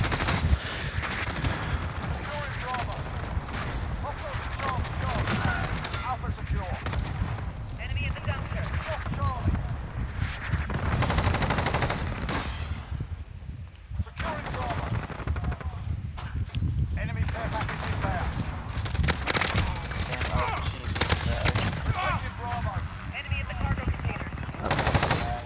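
Rapid bursts of automatic fire come from the M91 rifle in a first-person shooter on the Shipment map. The loud, nearly continuous gunfire and impacts are mixed with footsteps, and a player talks over the shooting.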